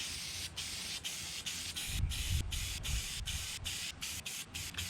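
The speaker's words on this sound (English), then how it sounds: "Just start spraying. Get it thoroughly." Rhythmic bursts of aerosol spraying oil onto a Yamaha TW200 motorcycle air filter, a series of short hissing squirts with brief gaps between them, close and steady.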